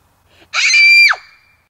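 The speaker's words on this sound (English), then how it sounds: "It sounded like a scream." A single sharp, high-pitched scream rings out for about half a second, then cuts off into silence.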